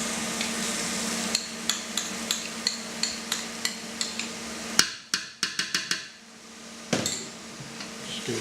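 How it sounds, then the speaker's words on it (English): Tomato puree stirred into vegetables cooking in a pan over medium heat: a steady sizzle with a regular series of utensil knocks against the pan, then a few quick clinks as the frying quiets, heard close. "Just give it a good stir in and we'll cook that out for another 2 or 3 minutes."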